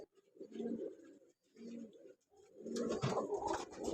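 A flock of fifteen migratory pigeons in Faisalabad coos in close, repeated low bursts, the calls growing busier and denser toward the end with some rustling mixed in.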